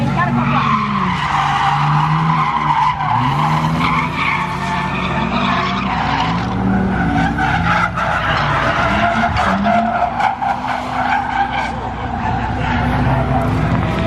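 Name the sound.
cars drifting counterclockwise on track, tires skidding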